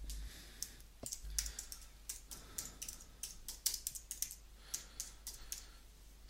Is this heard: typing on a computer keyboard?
yes